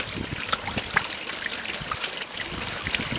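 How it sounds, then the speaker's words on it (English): Water from a pond vacuum pours into a box with a steady, close trickling and splashing, a continuous wet hiss with small irregular splashes throughout. "Here comes the water."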